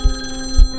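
Old landline telephone ringing in a booth as a story sound effect, two short, loud bell bursts about half a second apart with a steady ringing tone between, close and alone.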